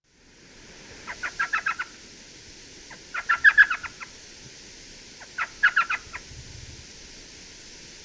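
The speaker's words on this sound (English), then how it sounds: "Let me play the elf owl call." An elf owl gives three bursts of rapid, high yelping chatter, each a quick laughing series of notes, heard clearly against a quiet night background in southeastern Arizona.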